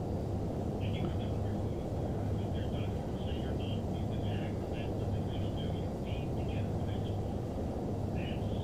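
An airliner taxiing in Microsoft Flight Simulator X gives a steady, low engine rumble that runs unbroken throughout, with faint intermittent higher chirps above it.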